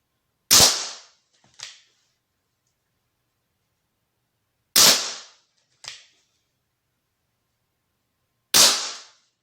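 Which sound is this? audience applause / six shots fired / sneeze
six shots fired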